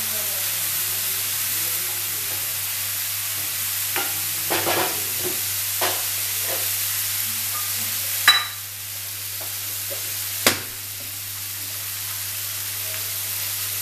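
Chopped onion frying in a pan with a steady hiss and sizzle, broken by a few soft stirring scrapes and two sharp clanks of a spoon on the pan.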